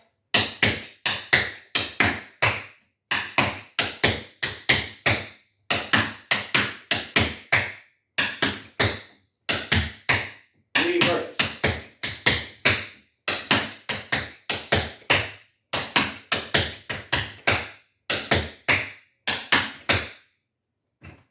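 Tap dance steps land in crisp rhythmic bursts of flaps and scuffs on a hard floor, grouped in repeating phrases with short pauses between them, loud and close, with no talking.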